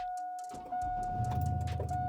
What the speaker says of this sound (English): Let's see if the old GMC starts.